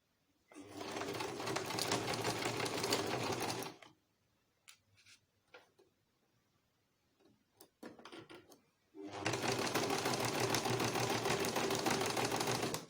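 A sewing machine stitching a skirt waistband, running in two steady bursts of several seconds each, separated by a quiet gap with a few clicks and handling noises.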